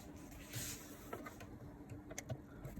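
A sewing machine stitching across the seam of a fabric face covering with a filter pocket, a quiet, rhythmic mechanical whirr and patter with a few soft clicks over a short stretch.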